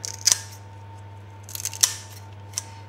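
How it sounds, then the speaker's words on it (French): Kitchen scissors snipping vegetables into a bowl while preparing food for a guinea pig, three or four sharp crisp cuts spaced apart over a low steady hum, close and clear with no talk. "Hop, je vais couper dans le bol."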